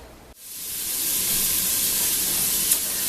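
Chopped onions hitting hot bacon fat in a pan, a short thump followed by a rising, sustained broad hiss of frying that holds steady, with no voices.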